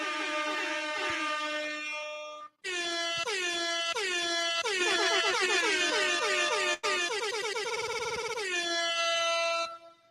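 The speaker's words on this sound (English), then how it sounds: "Let's get some air horns for that." Loud, blaring air horns sound in repeated overlapping blasts, sliding in pitch, with a brief gap between bursts, almost continuous for about ten seconds.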